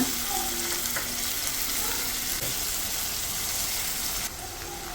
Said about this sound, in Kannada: ಮಸಾಲೆ ಚೆನ್ನಾಗಿ ಫ್ರೈ ಮಾಡ್ಕೊಳ್ಳೋಣ